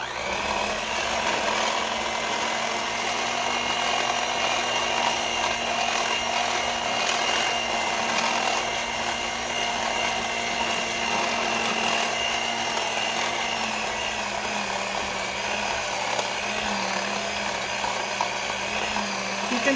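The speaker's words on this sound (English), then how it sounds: "I just have the beaters on low at this point" An electric hand mixer runs on low with its beaters working through banana bar batter, giving a continuous steady motor whir with a gritty scraping texture that holds evenly throughout, loud and close.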